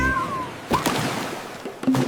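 A cartoon cat in an animated French nursery rhyme gives a couple of short meows amid music and other bright effects.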